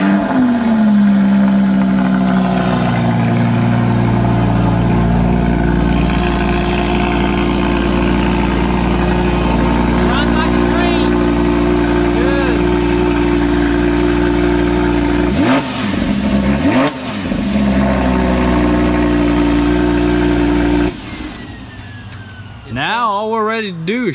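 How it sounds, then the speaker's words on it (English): A Lamborghini Huracan being rebuilt after a wreck is started from cold and settles into a loud, steady idle with a deep engine hum, a few rises and dips in revs, then fades near the end. "So I'm going in right now, give you guys that cold start."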